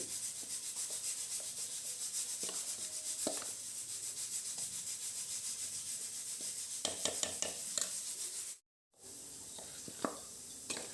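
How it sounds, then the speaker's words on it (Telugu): Chicken pieces mixed by hand with raw tamarind paste and chilli powder for a chicken pickle, a steady close wet rubbing and squelching that runs throughout, with a few brief sharper knocks and one short dropout near the end. "చూడండి ఈ విధంగా బాగా కలుపుకోవాలి"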